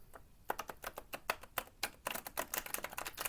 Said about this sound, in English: My cards just don't seem to want to shuffle for some reason